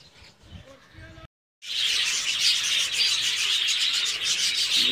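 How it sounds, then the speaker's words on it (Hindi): Several kinds of parrots in a bird shop or aviary fill the air with a dense, continuous chorus of shrill chirps and squawks. A brief silent gap comes before the loud chattering swells. "ये आपको मुख्तलिफ किस्म के तोते नज़र आ रहे होंगे"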